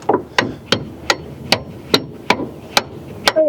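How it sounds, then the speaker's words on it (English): A hammer drives a part into an OBS Ford F150 truck with about nine sharp, evenly spaced metallic blows, close and loud, with no talking. "Hopefully the hammer can get in there."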